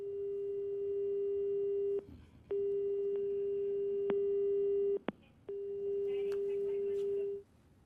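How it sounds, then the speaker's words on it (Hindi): A steady electronic telephone tone repeats in long sustained beeps with short gaps between them, clear and continuous, with no talking. "लगातार फोन रिंग बज रही है।"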